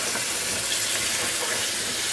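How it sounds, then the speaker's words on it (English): Cut potatoes rinsed under a running kitchen tap, a steady loud gush of water hissing and splashing continuously with no talk. "you want to go ahead and rinse those and get all the starch, extra starch off of them."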